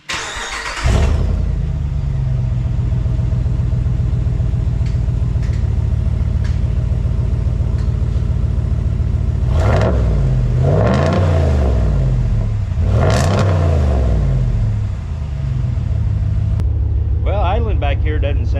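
A 2019 Ram 1500 pickup with its muffler deleted starts up and idles with a loud, deep rumble, then revs sharply twice with a raspy rising roar before settling back to idle.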